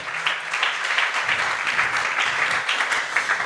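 Sustained applause from an audience at a question-and-answer gathering, many hands clapping in an even, moderately loud stream with faint voices underneath.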